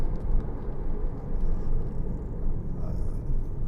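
A Porsche Cayman 2.9 (987) sports car on the move, its engine a steady low rumble with road noise inside the cabin, continuous and moderately loud with no talk.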